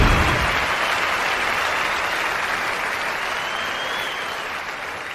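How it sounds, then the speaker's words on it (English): An audience claps in sustained applause, a dense, steady wash of many hands that tapers slightly over about five seconds, with no talk over it. "Give yourselves a round of applause"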